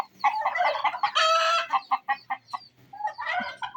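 Chickens cluck loudly and close by in a poultry yard while a rooster crows in a long drawn call, followed by more scattered clucks and squawks.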